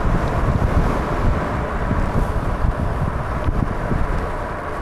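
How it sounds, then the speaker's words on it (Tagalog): Strong wind buffets the microphone in a continuous low roar among cherry blossom trees in Chungju, South Korea, loud and unbroken from start to finish. "Salubong yung hangin."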